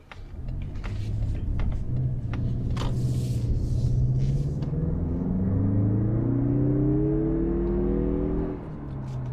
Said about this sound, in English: you definitely get quicker acceleration out of the turbo